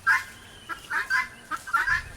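A broody guinea fowl with chicks gives a string of loud, close, raspy squawking calls in uneven bursts, with brief gaps between them.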